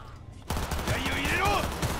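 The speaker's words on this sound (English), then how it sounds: "That dude had a shotgun." Shotgun blasts in Cyberpunk 2077 erupt suddenly after a brief quiet moment, followed by a dense, continuous roar of gunfire with whining tonal sweeps above it.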